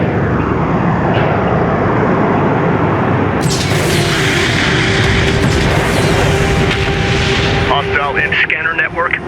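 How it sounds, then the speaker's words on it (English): An enemy airstrike hits in the strategy game Homeworld: Deserts of Kharak: a loud, continuous roar of aircraft and booming explosions swells partway through, while voices speak over it. "Enemy airstrike inbound."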